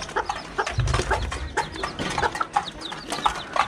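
Micro bantam chickens being fed, giving soft repeated clucks and short chirpy calls over the busy pecking and scratching sounds of feeding.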